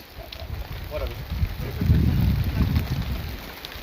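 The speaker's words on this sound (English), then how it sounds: "Yeah, it's raining." Rain falling steadily on a desert food forest homestead, a soft broadband patter that thickens and grows louder midway through, with gusty noise underneath and no talk.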